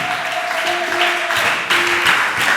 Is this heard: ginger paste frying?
no